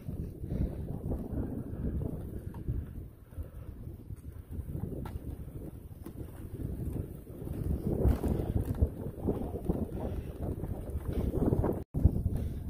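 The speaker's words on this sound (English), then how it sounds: "A little windy out today." Gusty wind buffets the microphone while a cyclist rides a hilly road bypassing the Paw Paw Tunnel on the C&O route, a constant low rumble that swells and fades with the gusts, with no talking.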